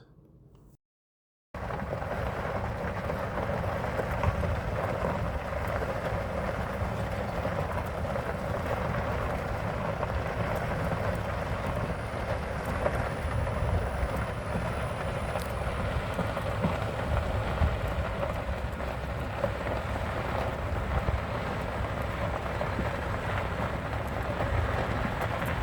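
A golf cart drives along the grounds of Caddo Mounds State Historic Site on a clear day, giving a steady, unbroken rumble and rush of motion and wind that holds level for the whole ride, with no talk.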